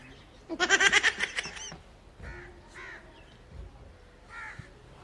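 A crow caws in a quick, loud series of harsh calls close by, then a few fainter calls follow over quiet background noise.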